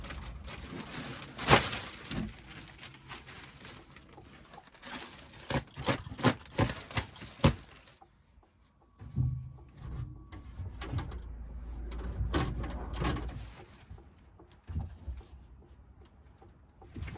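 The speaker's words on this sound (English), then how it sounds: "I've decided not to cut up any more of the acoustic foam and just use these to stuff the doors" Bags of acoustic foam being pushed and stuffed into the door cavities of a budget camper van build, giving a run of close rustling, rubbing and knocking handling noises, busier at first, then quieter with scattered bumps.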